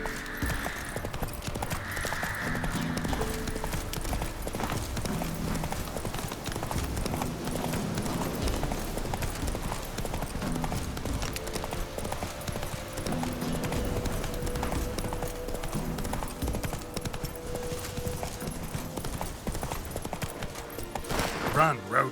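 Roach, the horse in The Witcher 3, gallops with steady rhythmic hoofbeats throughout, loud and continuous beneath game music and ambient sound, with a voice briefly heard.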